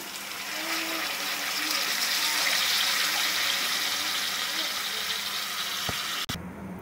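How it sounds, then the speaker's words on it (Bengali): Water pours steadily into a pan of rui fish curry, a bright, continuous gushing hiss lasting about six seconds before it stops with a brief clunk. "এখন আমরা জল দিয়ে দিব"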